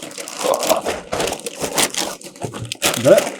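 A plastic bag crinkles and rustles in bursts while an Anthem MDX 16 is being unboxed, close and moderately loud, with people talking over it.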